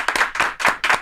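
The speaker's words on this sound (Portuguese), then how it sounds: "palmas para o Zeca, que é o nosso convidado de hoje" Four loud, distinct hand claps close by in a podcast studio, evenly spaced with short gaps between them, welcoming guest Zeca Ramos.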